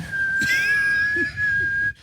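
A man whistles a long steady high note to imitate wind whistling through a bridge in Dublin, sustained for nearly two seconds and then cut off abruptly, loud and close.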